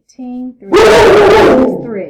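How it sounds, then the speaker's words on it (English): A pet dog barks and yelps loudly and close by in a home, drowning out a person who is talking briefly just before. "That was my dog."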